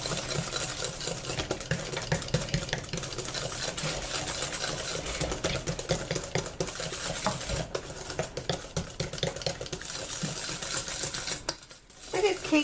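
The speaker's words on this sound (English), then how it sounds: "Let's whisk this." Whisk beating gluten-free cinnamon roll coffee cake batter in a bowl, a steady rapid scraping rattle that runs continuously and close, briefly pausing near the end.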